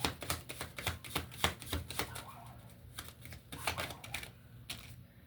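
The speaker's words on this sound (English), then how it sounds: "I'll take one more from this deck, and I'll pull from another deck here" Tarot cards are pulled and shuffled from decks, giving a rapid series of crisp, close card snaps and slides that thin out toward the end.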